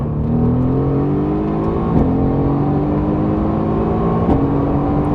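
A Mercedes-AMG GT R engine revs loud and close, its pitch climbing steadily and snapping back at two quick gear shifts, with continuous exhaust roar throughout.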